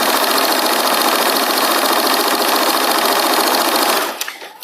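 Close-up sewing machine running at a brisk, even pace, a continuous buzzing hum that winds down and halts at the end.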